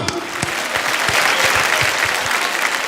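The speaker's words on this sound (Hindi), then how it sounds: "दोस्तों इनके लिए वो जोरदार तालियां।" Loud, dense audience applause fills a large awards-show hall at the Filmfare Awards, a steady wash of clapping hands with a few sharper claps standing out near the front, continuing without pause.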